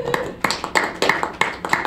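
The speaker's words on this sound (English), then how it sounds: "on behalf of council, we applaud you all" A council meeting audience applauds, a steady run of rhythmic, fairly close hand claps repeating several times over a couple of seconds.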